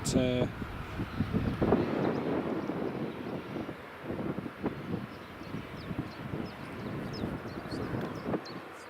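An easyJet Airbus A320 on approach to land at Edinburgh Airport, a steady distant jet-engine rumble mixed with wind buffeting on the microphone, while people talk over it throughout.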